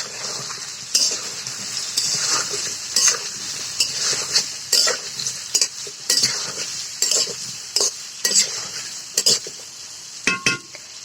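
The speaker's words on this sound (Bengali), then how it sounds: "মাঝে মাঝে ঢাকনাটা খুলে একটু নাড়িয়ে নেব।" Sweet, sour and spicy mango pickle simmers in a pot, loud and near, with regular scraping stirs and clinks of a spoon over a steady bubbling sizzle, then a lid knock near the end.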